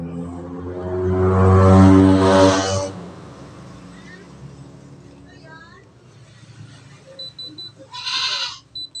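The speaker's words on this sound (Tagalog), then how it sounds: "pasensya na kasi yung kapitbahay namin maraming alagang kambing" Goats kept by a neighbour bleat in a loud, drawn-out call near the start, followed by quieter scattered calls and another short bleat at the end over background noise.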